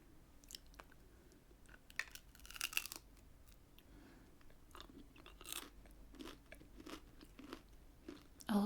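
A British biscuit bitten and crunched close to the microphone, giving several sharp crisp crunches amid steady chewing, with a louder final bite at the end.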